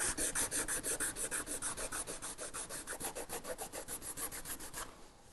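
Boat gelcoat is rubbed down by hand with abrasive in quick, even back-and-forth strokes, close and scratchy, steady for about five seconds before tapering off.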